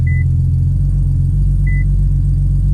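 An Infiniti Q50 engine runs after a cold start, with a loud, steady low idle rumble close by and two short electronic beeps chiming over it.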